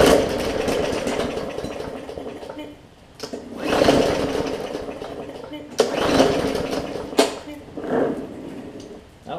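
A Briggs and Stratton classic engine on a Bolens push mower with a no-start problem is cranked, giving several short bursts of rough engine noise separated by pauses, loud and close.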